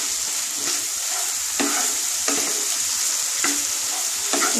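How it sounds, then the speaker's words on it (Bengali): Cauliflower pieces being stirred and sautéed in a pan for a Bengali yogurt cauliflower dish, a steady close sizzle broken by several sharp scraping stirs at irregular intervals, with no talking. "একটু কষাতে হবে।"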